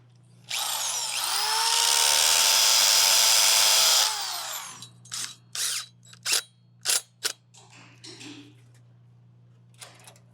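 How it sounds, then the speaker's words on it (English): A power drill bores pilot holes for screws into a brick wall while mounting a shelf or mantel, one loud continuous high-pitched whine lasting several seconds, then a series of short sharp bursts and taps over a steady low hum. "So we'll get drilling for our pilot holes for the screws,"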